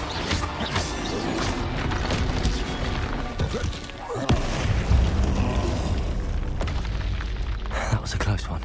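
Hogwarts Legacy spell combat with a Confringo blasting curse, a series of booming magical explosions and crashes over a busy battle bed, loud and punchy, with a voice casting spells among the blasts.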